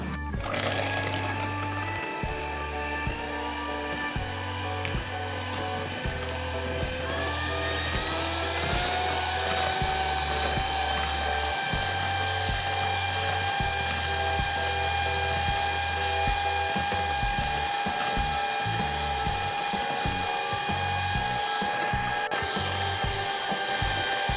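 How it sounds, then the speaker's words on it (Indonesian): An electric mixer whips batter at high speed for a black sticky rice putu ayu cake, a steady loud motor whine that holds an even pitch throughout, with a low rhythmic knocking beneath it during the first half. "lalu mau aku mixer dengan kecepatan tinggi sampai putih pucat dan kaku."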